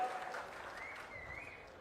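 Sustained crowd applause rolls through an outdoor public meeting in Narasannapeta, a dense, steady wash of many hands heard from some distance, with a faint whistle-like tone drifting over it.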